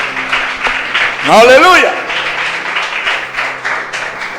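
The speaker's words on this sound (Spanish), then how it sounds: "Dale un aplauso a ese Dios todopoderoso" Church congregation clapping for God during a Spanish-language sermon, a broadband burst mixed with shouts and sung voices, with continuous speech and crowd noise throughout.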